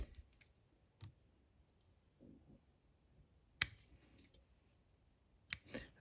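Fly-tying material, EP fibers tied onto a hopper fly hook, snipped with scissors: a few sharp, quiet clicks of the blades spread across otherwise near-silent moments, with faint handling rustles between cuts.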